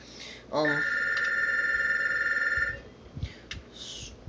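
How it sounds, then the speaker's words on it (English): An electronic telephone ring sounds once, a steady tonal buzz lasting about two seconds, followed by faint clicks and rustling. "The phone's ringing."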